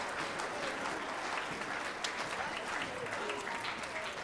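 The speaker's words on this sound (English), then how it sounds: "how about a round of applause for Dylan?" Steady applause from an audience at a fifth and sixth grade school winter band concert, a dense even patter of many hands clapping throughout, fairly close and continuous with no break.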